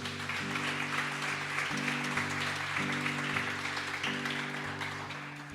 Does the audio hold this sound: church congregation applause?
yes